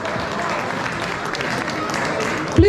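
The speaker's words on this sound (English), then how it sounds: "let's have a big round of applause for both of these fighters" Crowd applause for two fighters at a combat sports event, a continuous roar of clapping and cheering from a packed venue, with a brief louder knock near the end.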